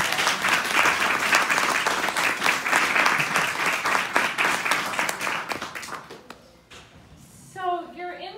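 A large conference audience in Austin gives a loud, sustained round of applause that thins out and fades after about six seconds, followed by a single voice speaking.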